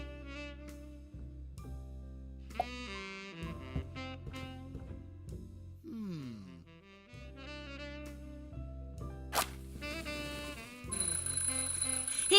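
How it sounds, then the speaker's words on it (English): A smoke detector alarm being tested in a point-and-click adventure game rings as a steady, shrill repeating electronic tone over game music and effects, fairly faint and lasting throughout. "I'm, just testing the smoke detector."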